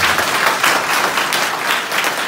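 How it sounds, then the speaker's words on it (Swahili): A church congregation at a mission gathering in Nyamira, Kenya claps for the Lord, dense and loud, sustained steady applause throughout. "Patia Bwana makofi ya baraka"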